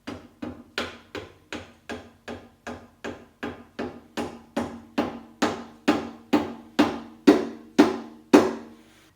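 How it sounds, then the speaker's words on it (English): Rubber mallet taps a motorcycle swing arm bearing into place on a Suzuki Intruder VS1400, about seventeen evenly spaced knocks in a steady rhythm, growing gradually louder, close up with no talk. "Now we can give it a little tap with a rubber mallet just to encourage it."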